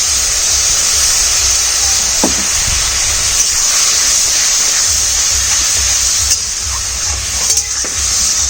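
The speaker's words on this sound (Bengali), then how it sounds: "একটু জল দেবো।" Hot pan of Bata fish curry with chilli powder, cumin and salt, hissing and sizzling steadily as water goes in, with a few faint clinks of utensils over the continuous close sizzle.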